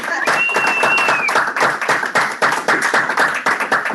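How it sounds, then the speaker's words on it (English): Audience applause breaks out at a Toastmasters club meeting in Lockport: sustained, fairly loud clapping from a modest group of people with a brief whistle-like tone early on, gradually thinning into individual claps. "Round of applause for Edna being back."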